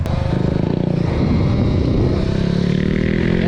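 A Talaria Komodo electric supermoto motorcycle on a race track in Koper, close and loud, with a rising mechanical whine and rattling drive noise as it starts off and gathers speed.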